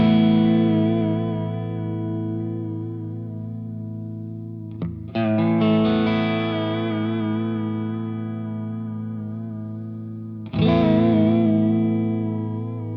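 A sustained electric guitar chord washed in stereo chorus from a Walrus Julianna pedal, its wavering modulation speeding up and slowing down under an automated rate, restruck twice and ringing between strikes.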